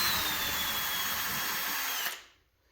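A power drill running steadily to back a bolt out while a hydraulic lift pump is mounted, a close, loud continuous whine that holds for about two seconds and then winds down and stops.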